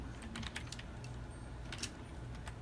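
Fast, uneven bursts of keystrokes on a computer keyboard, close and fairly quiet, with short pauses between clusters of taps over a soft background hum.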